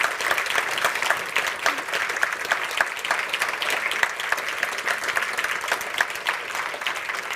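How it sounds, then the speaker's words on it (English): Audience applause at a World Cancer Day project showcase, a steady dense patter of many hands clapping throughout, moderately loud with no voices over it. "please, dear audience, give her another round of applause"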